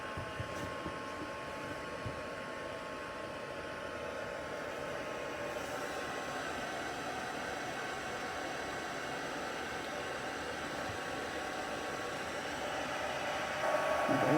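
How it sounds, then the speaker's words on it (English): An embossing heat tool blows hot air in a steady, close, breathy hiss that runs without a break, with no talking. "embossing powder, and my heat tool."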